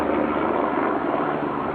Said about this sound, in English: Thank you, aeroplane. There's an aeroplane